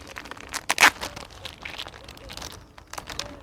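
A small plastic baggie of carp fishing bait crinkles and rustles in close handling, with one sharp crackle followed by softer intermittent rustling.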